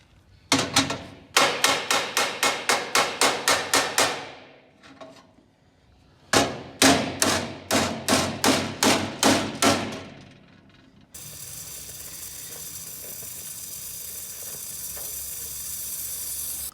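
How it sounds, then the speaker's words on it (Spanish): Rapid bursts of blows from a cut-down hammer ring out against a car's metal chassis, two runs of about a dozen sharp strikes each, followed by a steady hiss. "Este es un martillo que está cortado, como no tengo mucho espacio, al estar cortado tengo mejor golpe."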